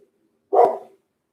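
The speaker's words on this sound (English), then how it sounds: "He gonna bark. I don't even know what he barking at." A single sharp dog bark rings out close and clear against silence, one short burst with nothing else around it.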